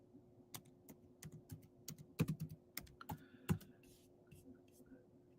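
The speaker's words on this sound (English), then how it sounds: "Let me type in word on map." Keys tapping on a computer keyboard in short uneven bursts, with a few louder key strikes standing out and a faint steady hum behind.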